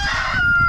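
A backyard flock of chickens, with a rooster's crow ringing out over busy clucking, close and loud through the whole short moment.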